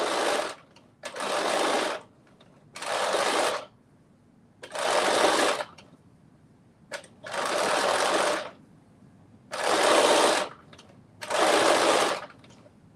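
A sewing machine stitches fabric in six bursts of rapid, even mechanical chatter, each lasting about a second, separated by short pauses, up close and clear.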